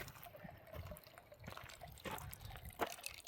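Clear spring water flows and trickles at Bathtub Springs on the Arizona Trail, a close, soft babble with light drips and splashes, quiet and continuous.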